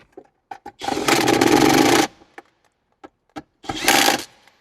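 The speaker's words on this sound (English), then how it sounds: "Then now we can tighten down those two bolts that are in the center here." A power driver tightens bolts on the center armrest of a 2012–2017 Toyota Camry, whirring loudly in two close bursts of about a second each, with small clicks and taps between them.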